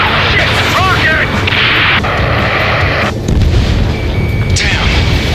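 A rocket explodes during a rescue mission over a space elevator in the combat flight game Ace Combat 7: Skies Unknown, giving loud sustained booms and blasts amid constant jet and battle roar, with radio chatter layered underneath.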